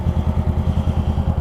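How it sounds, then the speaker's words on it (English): A sport bike engine revs hard and loud nearby, a throbbing low pulse repeating rapidly and steadily without letting up, no voices over it. "hopefully you could hear me over that sport bike revving"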